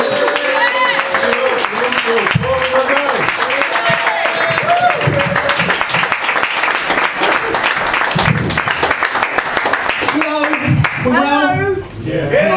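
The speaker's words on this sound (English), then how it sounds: "Yeah, everyone cheering!" A crowd at an intimate small gig claps and cheers loudly and continuously, dense applause with whoops rising over it, and voices calling out on top.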